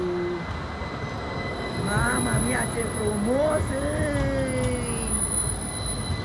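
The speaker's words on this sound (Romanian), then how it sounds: "Vine tramvaiul, Bozancaia," A new Bozankaya tram pulls in on a city street in Timișoara, its wheels squealing in rising and falling tones over a low rumble, while someone speaks excitedly nearby.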